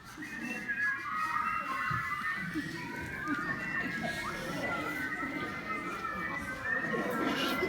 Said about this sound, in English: Everybody just whistle a happy tune for a moment, like Jingle Bells. Really whistle.